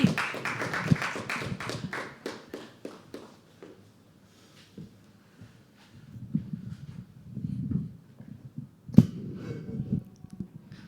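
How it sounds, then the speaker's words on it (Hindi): Audience applause at a live poetry open mic at The Habitat: a burst of clapping for the first few seconds that thins into scattered claps, shuffling and low room noise, with a couple of sharp isolated claps later. "दोस्तों तालियां बजती रहनी चाहिए, तालियां बजती रहनी चाहिए"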